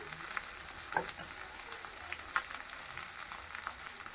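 Cumin and coriander powder fry in a pan while potato and paneer cook, giving a steady soft sizzle with faint stirring scrapes, fairly quiet and alone.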